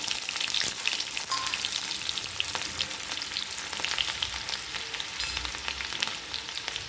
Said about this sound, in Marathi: लसूण आणि हिरवी मिरची ती टाकून द्यायची तेलामध्ये